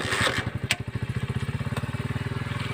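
A motorcycle engine rigged on a farm to drive a water pump runs close by with a steady, rapid thumping idle and faint clatter throughout.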